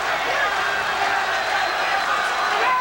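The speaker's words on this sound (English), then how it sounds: "Crowd really into this fight, as you can hear" Crowd cheering and roaring at the 1982 Alexis Arguello vs Aaron Pryor WBA light welterweight title boxing fight, a dense, steady wash of arena noise that stays loud and continuous throughout.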